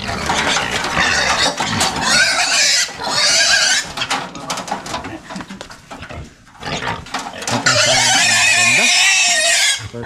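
Pigs on a Philippine pig farm squeal loudly in bursts, with farm clatter and people talking throughout.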